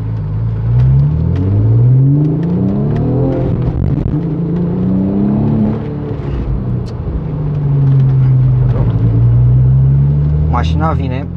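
An Audi RS4 with a stiff, likely sport clutch revs up and down in several rising and falling sweeps, its deep engine note loud and close, with a person talking over it.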